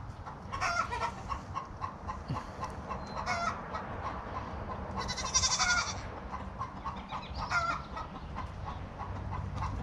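A young male goat bleats several times in short wavering cries, mixed with nearby chickens clucking and a low steady background rumble.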